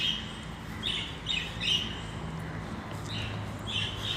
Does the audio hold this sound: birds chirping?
yes